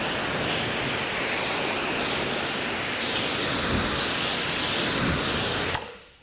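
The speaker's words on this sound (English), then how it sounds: "It's just insane how you can rinse these panels down." Powerful water spray from a high-flow 3.0 foam cannon fitted with the proper tip, rinsing down car body panels; a steady, loud, close hiss of rushing water that runs continuously for about six seconds, then cuts off abruptly.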